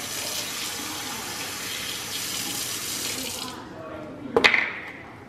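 A kitchen sink tap runs in a steady, close, hissing stream of water, then shuts off, followed by a brief clatter and faint splashing from the sink.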